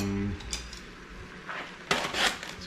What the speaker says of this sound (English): go ahead and just add them to the pot